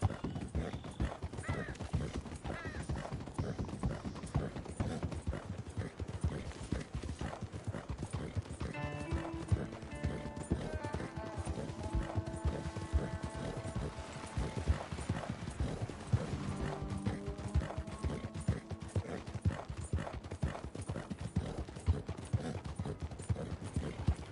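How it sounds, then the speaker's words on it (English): A horse's hooves clip-clop in a steady, continuous rhythm in Red Dead Redemption 2, with a drawn-out neigh rising partway through over the hoofbeats and some quiet background sound. "¡Arre, caballo!"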